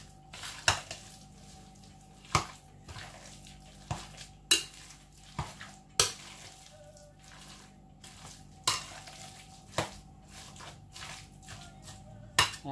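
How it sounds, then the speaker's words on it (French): A turkey and potato mixture being stirred and worked in a bowl for sesame dumplings, with a run of sharp utensil scrapes and knocks at irregular intervals over a quiet background. "Là, vous voyez, je mélange vraiment bien."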